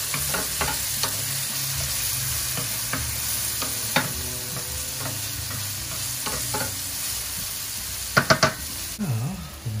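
Ginger paste frying in a pot for a stew beef dish, a constant close sizzle with scattered utensil scrapes and a short burst of sharp knocks against the pot near the end.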